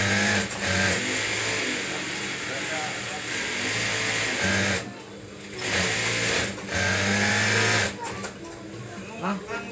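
A sewing machine stitches fabric pockets for a refrigerator cover, running in several sustained whirring bursts separated by brief pauses.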